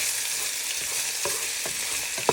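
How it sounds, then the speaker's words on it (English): Minced meat frying in oil in a pan while a wooden spoon breaks it apart, giving a steady close sizzle with a few soft scraping stirs and one sharper clack near the end. "Now you want to add in all your mince to your pan. And with your wooden spoon, you want to start breaking it down."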